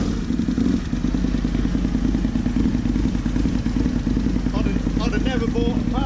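A 2003 Aprilia RSV V-twin motorcycle engine runs in a loud, steady, close drone with a rough throbbing texture, underlain by rumbling road and wind noise throughout.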